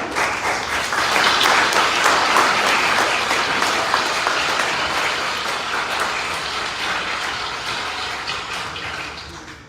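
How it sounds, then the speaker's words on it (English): A crowd at a party presidential primary election gives a round of applause, dense and loud clapping that peaks early and slowly tapers off over about ten seconds. "let's give a round of applause for them"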